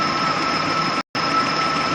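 A Nissan VG33E V6 engine running with a steady, loud mechanical drone, heard close for about two seconds and cut by a brief dropout midway, with no talk.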